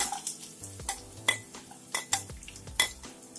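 Chopped ginger and garlic frying in hot oil while a metal spoon stirs and scrapes the pan, giving a soft sizzle under repeated close clinks and knocks of utensil on pan, with no voices.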